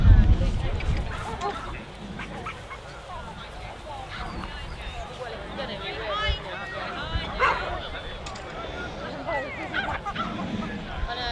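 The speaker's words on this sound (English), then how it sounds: "But we do have some Sussex Spaniels." Sussex Spaniels at a sporting dog pavilion parade at a dog show give scattered yips and bow-wow barks amid a murmuring crowd, with someone talking over them throughout.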